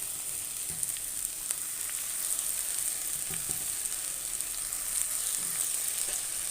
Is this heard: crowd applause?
no